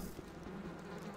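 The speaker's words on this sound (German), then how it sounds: "die Fliegen im Hintergrund summen mit" Flies buzzing in the Gothic 2 mod game, a continuous faint droning hum of insects in the background, steady and without talk.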